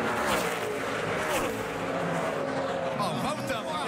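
NASCAR race cars at the 2011 AdvoCare 500 roaring around the track in a dense engine drone with shifting pitch, fairly distant and low, under an announcer's commentary.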